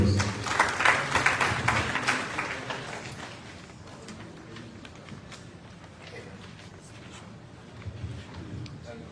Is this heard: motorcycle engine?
no